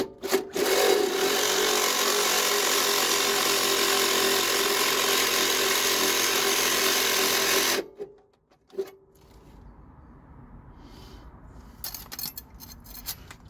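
A power tool bores hard with a Milwaukee carbide-tooth bit on a Mazda MX-5 Miata NC front lower control arm, a loud continuous grinding whine for about eight seconds that stops abruptly, followed by brief clunks and quiet shop rustling.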